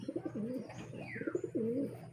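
A pigeon coos softly in a few repeated low, rolling calls, close but faint over a quiet background, with no voices.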